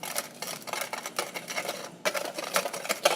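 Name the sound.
whisking sparkle slime mixture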